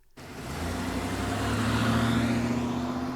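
A car engine starts up and pulls away, its hum rising steadily in pitch and loudness as it drives off.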